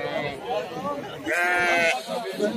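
Sheep at the Kurshab livestock market bleat loudly and close, one long wavering bleat standing out over a crowd of other animals and people talking.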